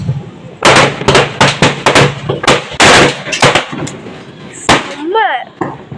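Firecrackers set off near houses crack in a rapid string of loud, sharp bursts, some overlapping, then pause before a few more pops, with a voice calling out between them.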